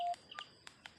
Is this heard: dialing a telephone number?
yes